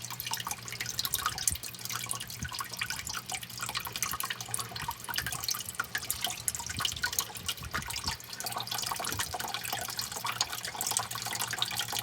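Axolotl tank water being slowly poured into a sink, a continuous splashing, dripping trickle with irregular droplet patter and a low steady hum underneath, moderately close and alone.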